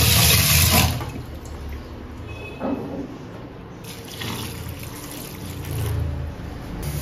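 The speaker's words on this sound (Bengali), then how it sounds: "এর মধ্যে একটু অল্প করে জল দিয়ে দিই" Water poured into a cooking pot set on a stove for boiling, a steady close splashing and running stream that is louder at first and then settles into a softer flow.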